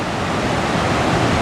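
Nabuyole waterfall in Webuye, Kenya, a dense steady roar of falling water heard near and loud, with no voices.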